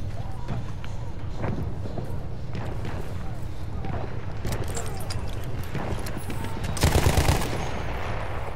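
Gunfire in the Battlefield 1 video game comes as repeated loud bursts and scattered shots, with one heavy blast near the end, under a voice talking.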